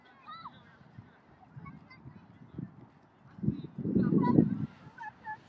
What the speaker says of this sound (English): I see the swans down there.